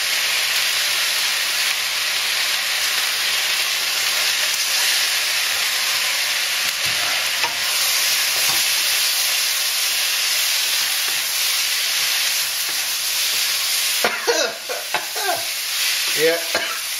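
Chili and tofu sizzle and fry steadily in a hot pan, a dense continuous hiss throughout, with stirring scrapes and clatter breaking in near the end.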